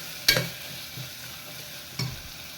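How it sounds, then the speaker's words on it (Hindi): A spice masala is stirred and fried in a pan for a mutton gravy, giving a faint background sizzle with two sharp spoon scrapes against the pan, about a second and a half apart, and no talking. "1 मिनट इसे हमें ऐसे ही भून लेंगे"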